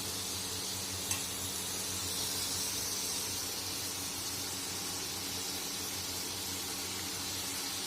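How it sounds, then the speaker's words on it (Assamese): Tomatoes added to fried spices sizzle in a pan, giving a steady, soft hiss that stays close and even throughout with one small clink near the start. "মছলাখিনি ভালদৰে মজি হোৱাৰ পাছত মই বিলাহীবোৰ দি দিছোঁ।"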